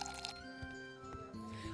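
Cups are filled with water in the video game Travellers Rest, heard as a quiet liquid trickle and soft squishing drips over a sustained musical game backdrop.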